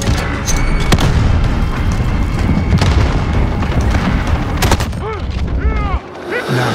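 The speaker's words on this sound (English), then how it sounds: "Throwing grenade!" A grenade blast in Call of Duty Modern Warfare during a hardpoint match, a loud booming explosion amid sharp gunshots and game noise, with voices calling out over the action.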